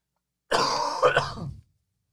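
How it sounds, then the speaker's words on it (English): A single close, fairly loud cough with a rough, throaty edge, about a second long, followed by silence. "I'm going to cough again"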